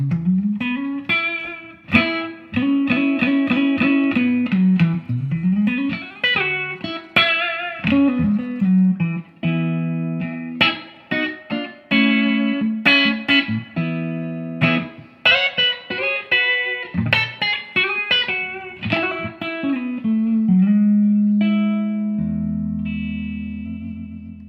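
A custom PIA x JEM electric guitar plays a solo run through effects with distortion and chorus, bright sustained notes and fast picked phrases up close, ending on a held, ringing chord.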